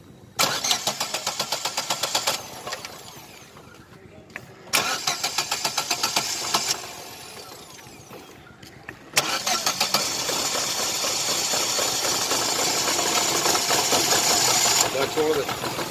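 A Chevrolet Optra with misfiring cylinders cranks several times in rapid rhythmic bursts, then starts and settles into an uneven, rough idle heard up close, with people talking nearby.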